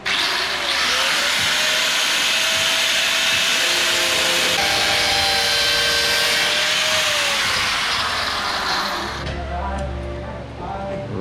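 An angle grinder cuts and grinds through metal, trying not to pierce a second skin behind it, giving a loud, steady high-pitched whine that holds for about nine seconds, then spins down.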